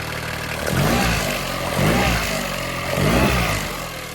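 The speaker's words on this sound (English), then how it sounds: "If I just rev it, you'll see." A Yamaha 9.9hp/15hp outboard motor revs up and drops back in three rhythmic surges over a steady idle, loud and close, with no voices.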